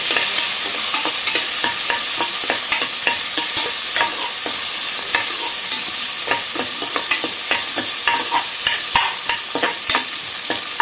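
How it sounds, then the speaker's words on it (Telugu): Onions frying in a hot pan with a constant bright sizzle and frequent scraping clicks of stirring throughout, close and steady with no talking. "ఉల్లిపాయలు వేగనిద్దామండి. చూసారా, ఉల్లిపాయలు వేగిపోయినాయండి."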